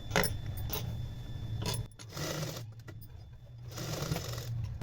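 A sewing machine stitches the edges of a long blouse in steady running bursts with a brief pause and a few clicks between passes, close and moderately loud, with no talking.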